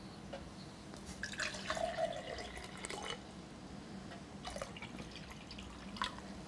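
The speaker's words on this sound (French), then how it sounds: "là, on va mettre de l'eau" Water poured into a drinking glass during a mentalist's stage act, with splashy dripping trickles rising and falling in short bursts over quiet room tone.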